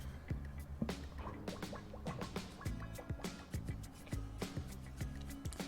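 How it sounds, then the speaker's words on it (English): An overfilled water bottle makes a faint, irregular series of dripping, gurgling clicks, quiet and close, with a few soft pops scattered across several seconds. "I also overfilled my water bottle, hence the weird noise"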